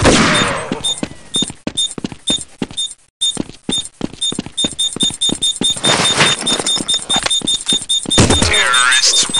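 Planted bomb in the Counter-Strike video game beeps steadily at a fast, even rate throughout, mixed with bursts of gunfire and shots, with a loud burst near the end.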